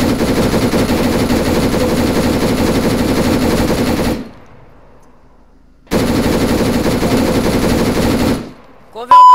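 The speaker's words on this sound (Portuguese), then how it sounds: "tão atirando em mim" Sustained automatic gunfire in the video game Arma 3, loud and close, firing in two long continuous bursts separated by a brief silent gap, with a short sharp sound at the end.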